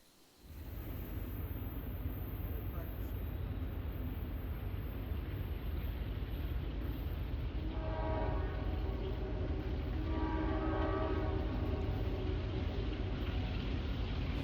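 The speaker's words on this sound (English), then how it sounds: "It wasn't that long until the train came." A coal train rolls past near an autumn excursion route at Prince, West Virginia, a loud steady rumble and clatter that sounds close and continuous, with a sustained horn blast partway through.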